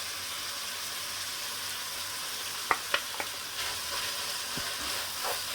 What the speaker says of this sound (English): so we fried up our mince for about 5 minutes, and next we're going to get in 1 onion chopped and 1 jalapeno chopped